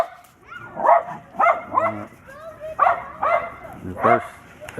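Dog barking outdoors in snow during a Houston blizzard, giving a series of about five loud, close yips and barks at irregular intervals with some whimpering in between.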